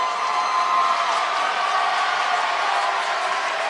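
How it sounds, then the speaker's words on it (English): A steady, dense hubbub from a basketball crowd in Nixon Hall during a 2018 men's game between Indianapolis and Bellarmine, a constant roar of voices with no distinct peaks. "Coaching staff on the bench pumping up the crowd. Got a little bit of noise going here in Nixon Hall."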